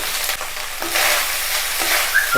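Soaked, drained basmati rice is stirred in a pan for sesame rice, a soft sizzling hiss broken by a few scraping strokes of a spoon, close and fairly loud, with no speech.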